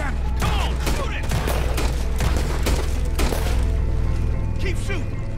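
Rapid gunfire rattles nonstop through a Red Dead Redemption 2 shootout, dense volleys of shots with thuds and booms, while voices shout and talk over the fighting.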